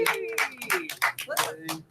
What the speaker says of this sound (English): maybe a round of applause